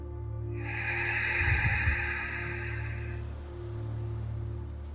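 A deep yogic breath, exhaled while squeezing the belly in, sounds as one long, soft, airy rush of breath that fades out after a few seconds against a low background hum.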